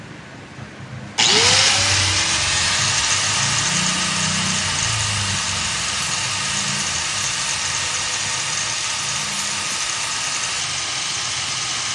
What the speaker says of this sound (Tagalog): Grinder ang gagamitin natin para pantay yung tabas dito.